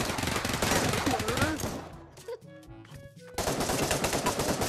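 Gunfire in the VR shooter game Pavlov, loud dense bursts of shots at the start and again at the end, with a quieter gap in the middle holding tonal game sounds.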